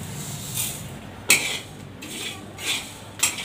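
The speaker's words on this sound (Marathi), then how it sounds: "मी सर्वात प्रथम मी बाजरी भाजून घेते" Bajra millet grains roasting on an iron griddle over a gas flame, with a few sharp metallic scrapes and clinks of a spatula against the pan at irregular intervals.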